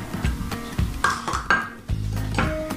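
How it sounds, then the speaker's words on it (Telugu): A spoon stirs crushed nuts into carrot kheer in a pot, giving close, repeated scraping clinks of metal against the pot in an uneven rhythm, with no voices. "సో ఇవి కూడా ఇలా తిప్పుకుని ఒక 10 మినిట్స్ ఇది ఇలా బాయిల్ అవ్వాలి"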